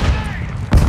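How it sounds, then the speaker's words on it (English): A flash grenade goes off in the Call of Duty video game, a single sudden loud burst near the end of a busy stretch of low rumbling battle noise. "Throwing flash grenade!"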